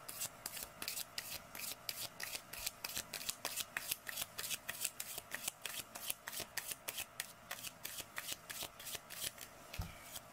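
Six cards are drawn from a deck in quick succession, a close, brisk series of rhythmic riffling and sliding swipes that runs for about ten seconds with no voices.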